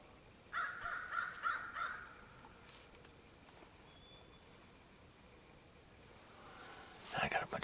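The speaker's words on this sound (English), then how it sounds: "I got a bunch of crows around here." Several crows caw in a quick run of calls among pines in Nebraska during a spring turkey hunt, fairly distant and clear in quiet woods, then a louder burst of calls near the end.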